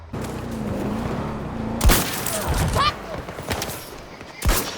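In the video game Battlefield 2042, an XCE BAR sniper rifle fires a few loud, sharp shots with booming tails, separated by mechanical handling clicks and a continuous low background rumble, with a voice talking over it.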